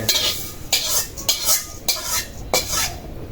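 Fried lentils stirred in a pot with a utensil: about five rhythmic scraping, clinking strokes, close and fairly loud, with no talking.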